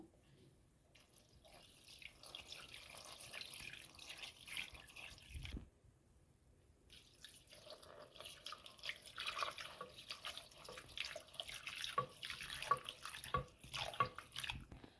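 Tap water runs and splashes gently as squeezed chenna for rasmalai is rinsed, a soft, close trickle with a brief pause midway before the watery splashing resumes, fairly quiet overall.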